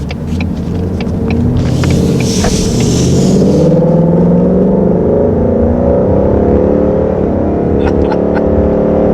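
A 2020 Ford Mustang GT Performance Pack V8 rumbles from inside the cabin, a loud, steady low drone that holds throughout with a brief rise in hiss early on.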